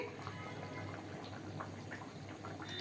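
Egg curry gravy with potatoes boiling in a pan, a steady soft bubbling and faint liquid simmer heard close up throughout, without talk.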